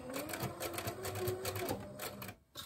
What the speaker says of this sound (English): I'll literally do a few more stitches. And then I'm going to back stitch.